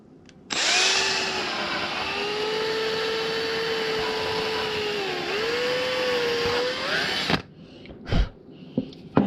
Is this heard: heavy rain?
no